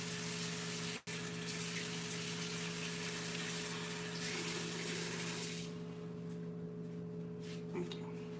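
Water runs steadily from a kitchen tap while something is rinsed off, a continuous broadband gush that thins out near the end, with a steady hum underneath.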